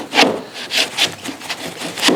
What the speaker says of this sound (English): reach up in and snag the nails with the hook here